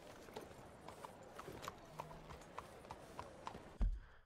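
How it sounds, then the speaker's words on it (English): Steady clip-clop of horse hooves in Red Dead Redemption 2, a regular rhythm of light thuds under a faint background wash, ending in a louder thump. "Why is my horse up here?"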